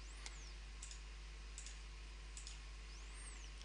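A handful of sharp, quiet computer mouse clicks spaced a second or so apart over a steady electrical hum, loading a roof panel into a building design project.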